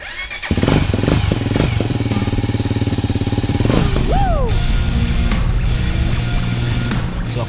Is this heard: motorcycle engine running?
yes